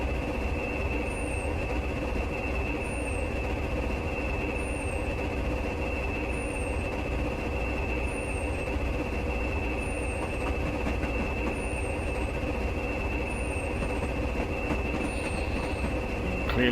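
A Class 20 diesel locomotive double-header braking in Train Simulator Classic, with a steady mechanical drone and a constant high brake whine, punctuated by regular faint clicks of wheels over rail joints, with no talking.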